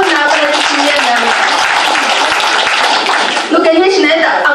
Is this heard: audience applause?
yes